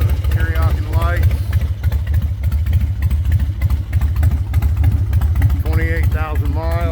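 Carbureted Harley-Davidson Night Train motorcycle, 17 years old with 28,000 miles, idles with a steady loud low rumble throughout, while someone talks over it near the start and again at the end.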